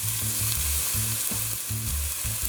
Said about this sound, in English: we're just going to allow this to saute and soften in here a little bit